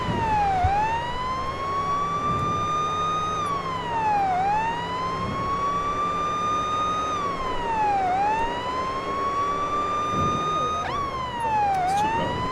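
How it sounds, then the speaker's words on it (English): A police siren wails loudly and close by, sweeping up and slowly down in long repeating cycles over a low rumble of traffic. "There's a cop siren."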